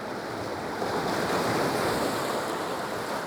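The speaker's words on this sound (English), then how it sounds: "The tide's coming in" Ocean surf breaking against a rocky shore at sunrise as the tide comes in, a steady close wash of waves with wind noise over the microphone and no voices.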